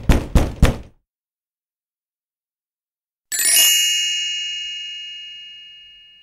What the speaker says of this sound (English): He stepped up to the front door and knocked.